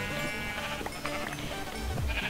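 Sheep bleating in the video game Minecraft: several wavering baas follow one another over a steady busy game background, the last one loud and low.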